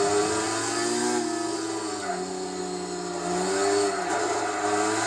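Subaru STI and Mazda RX-7 race cars in the Gran Turismo 4 Tsukuba 9 Hour Endurance Race, engines droning and revving steadily with rising and falling pitch as they accelerate, loud and close with no voices.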